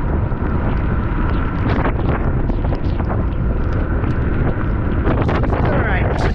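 Steady loud wind buffets a microphone aboard a small boat near Haulover Inlet in Miami, a constant broadband roar with a few brief clatters and knocks mixed in.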